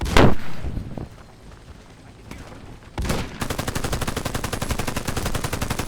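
A loud burst of gunfire in the video game Warface, then a pause, then sustained rapid automatic fire, close and continuous.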